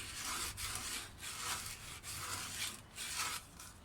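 Steady back-and-forth rasping of sandpaper on wood, cutting a sound port in a mandocello, rhythmic strokes about every half second, close and fairly quiet with no voices.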